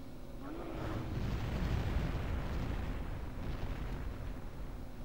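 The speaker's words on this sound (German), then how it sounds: "Das Problem ist, dass das alles explodiert." Explosions in the Atari Jaguar game Alien vs Predator, heard as a loud, sustained rumbling blast that swells and then holds as a dense roar, with no talk over it.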